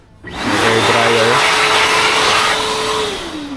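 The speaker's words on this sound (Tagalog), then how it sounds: "May hair dryer." A hair dryer in a guest lounge at a bamboo eco-park pavilion switches on and runs with a steady, loud, close whooshing roar for several seconds.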